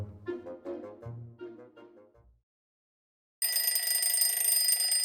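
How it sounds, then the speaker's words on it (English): An alarm clock rings loud and steady, a bright continuous electronic tone that starts abruptly after a short pause and sustains close up, preceded by a few gentle melodic notes. "My clock's alarm rang loud and clear."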